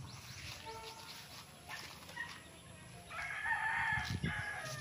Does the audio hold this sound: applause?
no